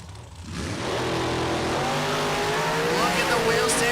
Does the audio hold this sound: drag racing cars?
yes